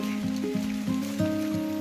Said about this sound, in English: it has been raining for almost a week straight